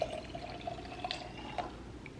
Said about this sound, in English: And then I just add this much ice, and then I just pour my coffee over it.